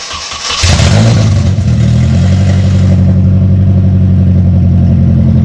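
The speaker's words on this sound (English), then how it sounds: "Go ahead and start it up so we can hear how horribly loud it is." A Datsun 620 pickup with a swapped KA24DE engine and a very loud custom exhaust cranks briefly, fires up, and settles into a booming, steady, close idle.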